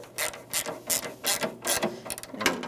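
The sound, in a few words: ratchet socket wrench turning headlight bolts, Dodge Ram 1500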